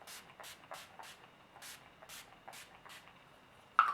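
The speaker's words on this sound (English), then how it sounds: "I take the Urban Decay All Nighter Setting Spray and then just like go to town on my face" Short repeated hissing bursts of Urban Decay All Nighter setting spray misted onto a face, about ten quick spritzes in an uneven rhythm, close and fairly soft.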